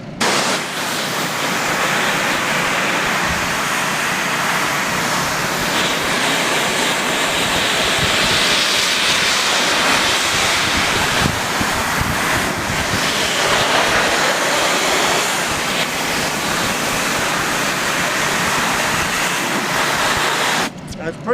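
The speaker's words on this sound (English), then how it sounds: "I can see the water spraying to know that I'm getting it through the floor." Water sprays through a coil during cleaning, making a loud, steady, broadband hiss that runs unbroken for about twenty seconds before cutting off abruptly.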